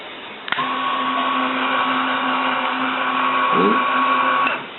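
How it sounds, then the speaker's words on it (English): A linear actuator on a solar tracker starts with a click and runs as a steady, droning electric motor hum, shifting pitch briefly near the end before stopping, no voices. "click it to the east. The actuator will run."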